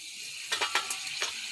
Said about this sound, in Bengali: কড়াইয়ে তেল দিয়েছি, তেল গরম হয়ে গেছে। পাঁপড় দিয়ে দেব